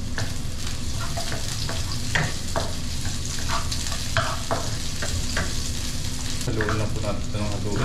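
Sliced onions frying in a pan and stirred, a loud continuous sizzle with repeated scraping strokes of the spatula, close and steady with no talk.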